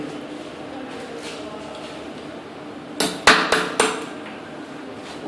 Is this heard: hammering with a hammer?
yes